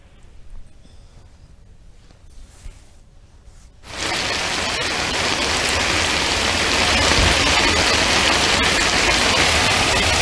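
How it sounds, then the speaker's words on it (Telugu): Heavy rain pours down in Hyderabad, a dense steady hiss that begins suddenly after a few quiet seconds and stays loud to the end, with no voices. "హైదరాబాద్ లో పలు ప్రాంతాల్లో భారీ వర్షం పడుతూ ఉండడంతో"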